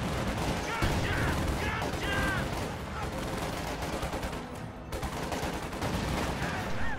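Gunfire crackles in a real-time strategy battle while a flamethrower engages enemy troops, with dense rapid bursts and explosions layered over each other and a voice talking intermittently.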